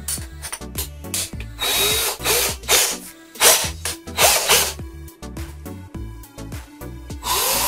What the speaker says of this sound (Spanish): Ahora me queda hacer el taladro por la parte posterior.